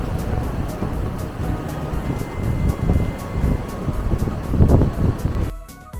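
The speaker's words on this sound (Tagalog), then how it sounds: "May lakas ng hangin." Strong wind buffets the microphone on a Siargao surf beach at Cloud 9, a loud, continuous gusty roar with rumbling bursts and no voices.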